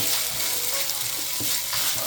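Mixed vegetables sauté in a hot pan for fried rice, giving a steady, close, dense sizzle that carries on without a break for about two seconds, with no voices.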